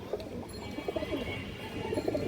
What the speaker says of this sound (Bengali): বড় সাইজের একটা বাঘা মাদি কবুতর